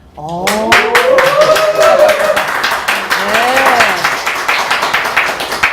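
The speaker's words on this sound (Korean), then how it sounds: "응원의 박수가 네, 상당하네요." Talk show audience clapping in support, a dense burst of applause running throughout with voices talking over it.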